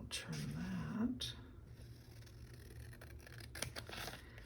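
Scissors snip through paper for a handmade journal, a few quick close cuts near the start, then quiet handling with faint rustles and small clicks.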